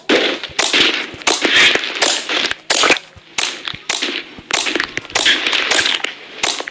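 Neon green slime is squished and popped by hand, making loud, wet crackling bursts and sharp popping snaps in irregular clusters, close up with brief pauses between squeezes.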